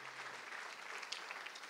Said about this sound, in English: You better clap louder than that in Jesus' name.